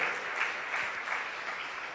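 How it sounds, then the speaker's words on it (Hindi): Loud, sustained clapping from an audience at a Jain community gathering fills the whole two seconds, a dense, even patter with no voices on top. "आपके हाथ खुलेंगे और जोरदार तालियां गूंजेंगी"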